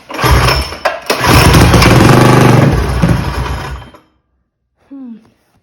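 Mega Moto 212 mini bike engine pulled over and catching, running loudly and unevenly for about three seconds before cutting out, followed by silence and a brief voice.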